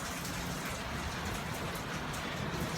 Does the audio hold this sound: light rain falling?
yes